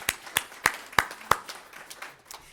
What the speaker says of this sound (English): We can do another round of applause.